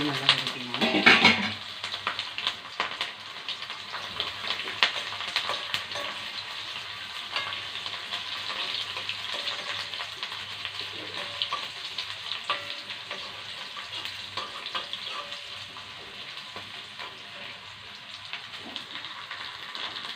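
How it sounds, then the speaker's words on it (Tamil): Ginger and garlic sauté in oil with a stick of cinnamon, cloves and fennel seeds for a mutton curry, a dense continuous sizzle with occasional stirring scrapes, close and steady throughout. "இஞ்சி, பூண்டு இதையும் எண்ணெயில் நல்லா வதக்கணும்"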